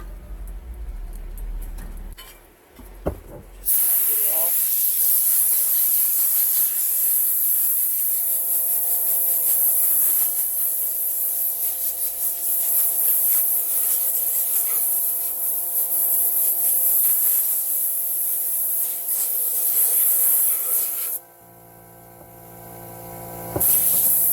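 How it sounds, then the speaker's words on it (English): A compressed-air nozzle blows out a powder coating tumbler in a basement shop, a loud steady hiss that runs almost unbroken for about twenty seconds, rising from a short quiet start and cutting off near the end. "So next we're just going to take the air compressor, blow it out."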